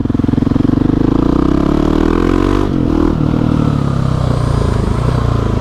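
A dirt bike engine, either a Husqvarna 701 or a KTM 300 EXC, runs loud and close with a throbbing exhaust note. The pitch climbs and then dips around the midpoint before settling back to a steady run.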